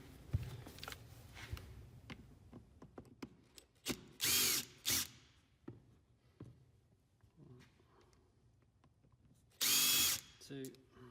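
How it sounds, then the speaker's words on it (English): Power driver backing screws out of a Makita drill gearbox, two loud close whirring bursts separated by quiet handling clicks and tool clatter. "we're going to take these 4 screws out, remove the gears"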